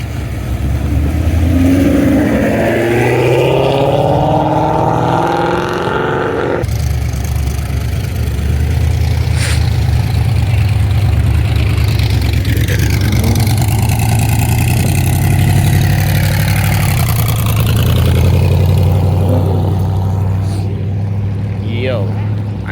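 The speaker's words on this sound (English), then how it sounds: "Yo, I think it's a bike. Yeah, definitely a bike." At an airport car meet, a motorcycle engine idles and revs nearby with a few rising and falling bursts, mixed with passing vehicle noise and people talking over it.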